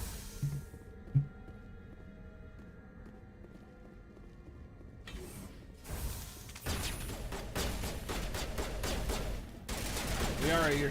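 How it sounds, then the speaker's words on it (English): Gunfire in Mass Effect as a character shoots at a wall, arriving as bursts of dense, loud shots in the second half after a quieter opening with faint game sounds. "Yara, you're shooting at a wall."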